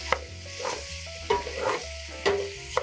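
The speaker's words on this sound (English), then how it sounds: "put the ziti package here before the garlic browns too much. And mix it in really quickly." Ziti pasta tossed into garlic sizzling in hot olive oil, with sharp scraping stirs at regular intervals over a steady close crackle.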